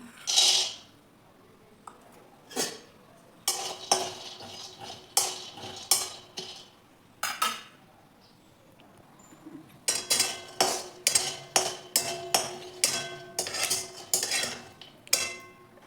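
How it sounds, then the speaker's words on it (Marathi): Peanuts are stirred while dry-roasting in a pan with a spoon for flaxseed laddoo, making irregular metallic scrapes and clinks in bursts with short gaps, close and moderately loud, with no speech. "आता शेंगदाणे पण भाजून घेऊ आपण."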